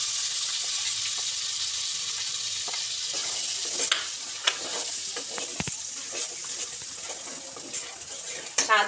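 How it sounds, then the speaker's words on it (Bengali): Spices tipped one by one into a hot, sizzling pan for a yogurt cauliflower curry, a steady hissing fry followed by scattered spoon scrapes and clatters nearby. "এবার আমি একে একে মশলা দিয়ে দেবো।"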